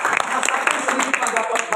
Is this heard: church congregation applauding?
yes